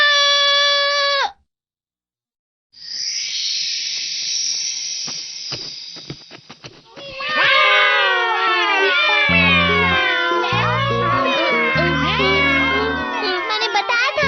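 Cartoon cats meow in a rapid series of bright, high wavering calls after a brief tone and a silent gap, loud and close, with musical notes underneath.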